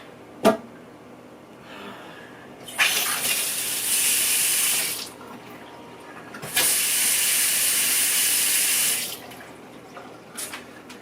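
Water runs hard from an apartment tap in two long, loud hissing bursts with a short pause between, each gushing for a couple of seconds before cutting off, with small clicks and knocks around it.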